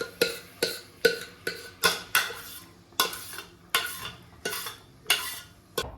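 Soaked moong dal stirred into roasting wheat flour for Thiruvaiyaru Ashoka halwa in a pan: about a dozen evenly spaced scraping strokes of a spoon against metal, close and steady, over a faint sizzle.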